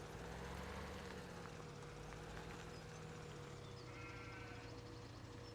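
Sheep bleating in a farming video game, faint calls over a steady background drone with game ambience, no speech.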